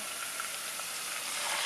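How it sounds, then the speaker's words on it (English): Rice frying in a pan for tomato and sweet potato risotto, a soft steady sizzle with faint crackles, continuous and fairly quiet throughout. "can you hear? It starts frying."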